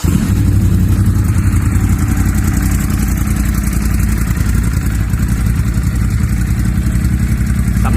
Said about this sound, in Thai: เดี๋ยวผมจะพาไปฟังเสียงเครื่อง ลูกติ 821 จะเป็นไงบ้าง